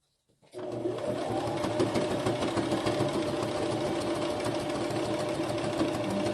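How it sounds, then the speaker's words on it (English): A sewing machine starts up and runs steadily, stitching straight along the edge of a book, with a close, continuous mechanical whir and rapid needle chatter at an even, sustained speed. "I line my presser foot up along the edge of the book, and hopefully I can sew straight"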